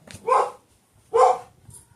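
Two loud bursts of a dog barking about a second apart, near and clear, with a fainter yip at the end and no talk in between.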